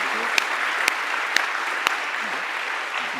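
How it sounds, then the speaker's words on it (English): Conference audience applauding after a talk on sustainability and money, a short burst of steady clapping from a seated crowd with a few sharper individual claps standing out. "round of applause."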